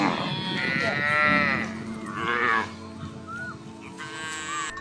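A herd of over sixty farm cows lowing, with two long, loud moos close by, one after another, then a higher, thinner call near the end over faint farmyard background.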